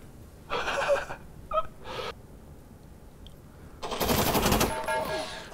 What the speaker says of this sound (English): there's two people shooting me from the same fucking building